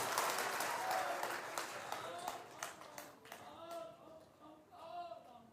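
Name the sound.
audience applause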